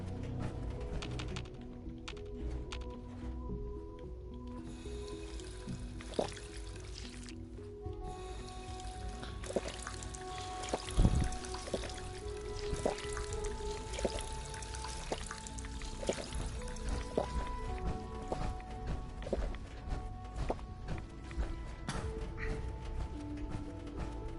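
Water being drunk in Fallout 4: a steady pouring, sipping sound runs under layered in-game ambient tones and music, with a brief sharp knock near the middle.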